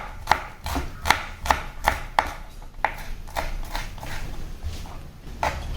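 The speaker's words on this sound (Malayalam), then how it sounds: "ഉള്ളി നന്നായിട്ട് ചെറുതായിട്ട് അരിയുക" Small onions are finely chopped on a board with a knife, giving a quick run of sharp, close taps in an irregular rhythm.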